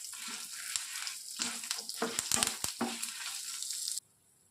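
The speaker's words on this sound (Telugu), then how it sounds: "వీటన్నిటిని చక్కగా ఫ్రై చేసుకుందాము." Sesame seeds, dried red chillies and curry leaves fry in hot oil with a loud, steady sizzle, broken by a few scraping stirs, then cut off abruptly.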